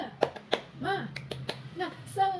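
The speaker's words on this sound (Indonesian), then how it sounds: "ayo kita buat dulu tepuk semangat kita ya, biar kita lebih semangat ya" Elementary school students in a fifth-grade classroom doing a rhythmic spirit clap, sharp separate claps in a patterned beat mixed with children's chanting voices, close and fairly quiet.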